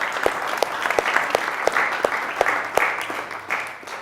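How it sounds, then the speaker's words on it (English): An audience claps at a talk, with a few close, sharp individual claps standing out in a steady rhythm over a fuller background of applause that slowly eases off. "I think you should give yourselves a round of applause for that."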